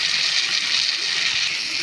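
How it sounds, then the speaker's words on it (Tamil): Water poured into a pan of tomato kurma, a steady, bright, rushing gush that stays even throughout and plays alone without talk. "தண்ணி ஊற்றிக்கலாம்."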